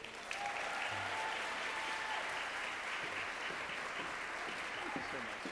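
An audience at an awards event gives sustained, dense applause as a guest speaker is welcomed to the stage, the clapping loud and even from start to finish.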